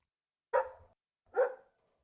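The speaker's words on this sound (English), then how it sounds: "My dog barks loudly." Dog barking loudly: two sharp, close barks roughly a second apart, each cut off quickly, with silence around them.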